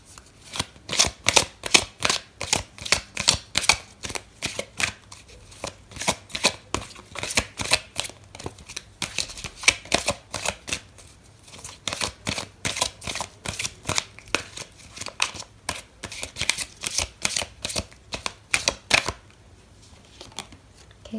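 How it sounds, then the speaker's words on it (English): A deck of tarot cards is shuffled steadily for about twenty seconds, producing rapid, crisp riffling bursts close to the listener, with a few brief pauses between runs and no talking. "Okay, so I'm going to pull out another card for you"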